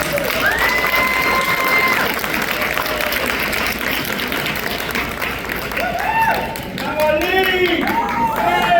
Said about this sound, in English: Everyone, please give a round of applause to Arlene Ortiz.